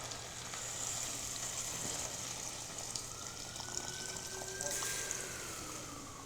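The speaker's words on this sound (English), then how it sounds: "This is 500 milliliters of water, basically like 1 pint. So that'll go in." Water, 500 ml, pours into a pan of chicken curry, a steady splashing fill with a soft sizzle from the hot pan, close and continuous without a break, and no one talks over it.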